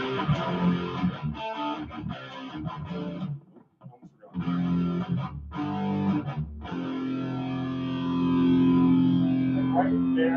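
An electric guitar played through a distortion effect rings out in gritty, sustained notes and chords, breaks off briefly near the middle, then settles into a long held distorted tone.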